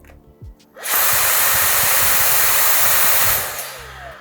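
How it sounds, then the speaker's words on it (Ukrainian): A Dyson Airwrap hair styler switches on with a loud, steady airy whoosh that runs for about two and a half seconds and then fades off, with quieter handling sounds before it starts. "коли ви її затискаєте, включаєте стайлер"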